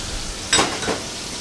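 Shallots and leeks sweat gently in a pan, giving a soft, close sizzle with a brief louder burst of frying and stirring.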